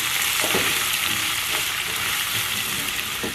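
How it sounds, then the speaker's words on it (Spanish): Rice frying in a pan with chopped onion and garlic, a dense, loud, continuous sizzle with soft stirring scrapes, close up and with no talk. "le voy a poner la cebolla y el ajo picado. Y le voy a seguir moviendo para que la cebolla se triture."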